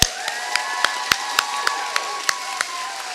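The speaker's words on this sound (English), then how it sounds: "Please give these wonderful people, who also happen to be working hard all around to keep things running smoothly today" Applause for educators at a B Mitzvah ceremony, heard as sparse, separate claps spaced about every quarter second over a faint crowd murmur, fairly close and fading slightly toward the end.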